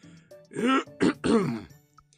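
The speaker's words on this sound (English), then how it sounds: "Eeyore coughed in an impressive way and began to speak." An audiobook narrator voices Eeyore, the donkey from Winnie the Pooh, making a deliberate throat-clearing cough: three rough, voiced bursts close to the microphone, then quiet.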